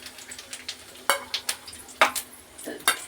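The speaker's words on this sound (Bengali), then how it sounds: "ওই তেলের মধ্যে সব ফোড়নগুলো দিয়ে দিলাম" Whole cumin, cinnamon, cardamom, cloves, dried chillies and bay leaves dropped into hot oil in a kadai, crackling in sharp scattered pops and clinks of a utensil against the pan, with a voice faintly in the background.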